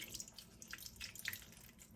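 Tap water runs and drips into a sink while mixed greens are rinsed in a home kitchen, a quiet steady trickle with scattered droplet splashes and no voices.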